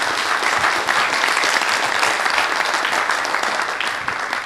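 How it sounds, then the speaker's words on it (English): Audience applause for a guest speaker at a talk, a dense, steady wash of clapping from many hands that holds throughout and tapers slightly at the end. "Shall we all give Mr. Ong a big round of applause?"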